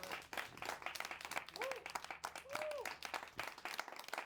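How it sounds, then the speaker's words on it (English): A studio audience at a college TV show applauds, a dense, steady patter of clapping close by, with a voice briefly talking over it. "studio audience, give a round of applause for Stephanie Simon"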